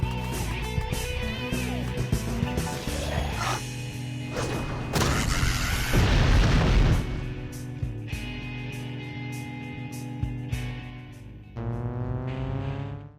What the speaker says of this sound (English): to my surprise, I finish him off with a Magni Bomb